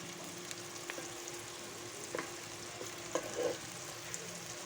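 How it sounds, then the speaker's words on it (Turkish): Onions and peppers sautéing in a pan for a Turkish regional dish, a soft steady sizzle with occasional light clicks and scrapes of stirring, fairly quiet and close, no voices. "gördüğünüz gibi soğanla biberimizi pembeleşinceye kadar kavuruyoruz"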